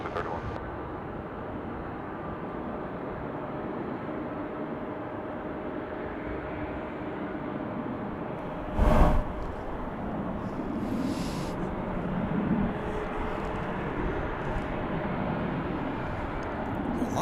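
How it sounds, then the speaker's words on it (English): Airplane at DFW International Airport, a broad distant jet roar rumbling steadily throughout, with a short louder burst midway, under outdoor ambience and no clear talk. "we've got this flight coming in from Colorado Springs in Colorado"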